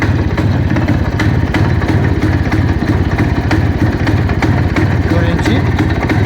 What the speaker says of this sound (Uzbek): hozir yurgizib beraman. Bir quloq solib ko'rasiz motorlariga